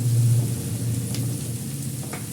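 Tomatoes and onions sizzle in a frying pan, a close, steady crackling hiss with faint popping and no talk.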